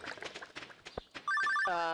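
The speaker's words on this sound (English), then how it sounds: "Oh, phone call." A telephone rings in Stardew Valley: after a few soft clicks and faint sounds, a loud electronic ring tone starts and repeats in rapid pulses, then holds.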